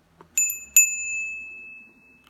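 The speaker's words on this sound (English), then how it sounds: "This is a special little bell." A small special bell struck twice in quick succession, bright sustained ringing tones decaying slowly, close and clear with no talk.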